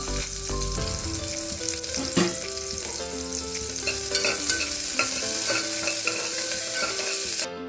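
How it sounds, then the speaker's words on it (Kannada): Chopped onion dropped into a spoonful of hot oil for a cauliflower gravy, sizzling and frying steadily with stirring scrapes and light pan clinks throughout, close and fairly loud, ending abruptly. "ಈರುಳ್ಳಿ ಹಾಕ್ತಾ ಇದ್ದೀನಿ, ಕಟ್ ಮಾಡಿ ಇಟ್ಕೊಂಡಿರೋದು"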